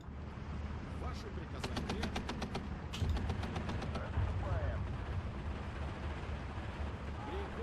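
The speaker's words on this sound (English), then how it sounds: "I'm going to go ahead and strafe this MG42 on the right hand side." Aircraft strafing gunfire on an MG42 machine-gun position in the WWII strategy game Steel Division 2: a rapid, evenly spaced burst of shots rises over a steady low battle rumble, with distant explosions following.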